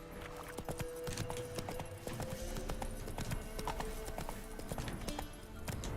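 Roach, the horse in the Witcher 3 video game, gallops with rapid, rhythmic clip-clopping hooves that stay close and steady throughout.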